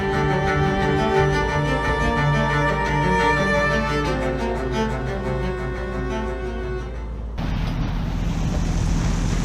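Strong wind of around 30 knots roars across the microphone while waves rush against a sailboat off Cuba's northern coast, a loud continuous buffeting that shifts abruptly toward a hissing surf wash near the end.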